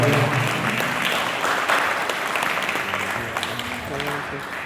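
Audience applause welcoming a troupe onto the stage at a Tamil Thirumurai music school event, a dense steady wash of clapping throughout with a voice speaking over it.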